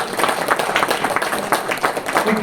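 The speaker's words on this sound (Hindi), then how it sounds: "आप भी ताली बजाओ" Audience applause with dense, steady clapping from a crowd gathered at a talk, sustained at moderate loudness throughout with a faint voice mixed in.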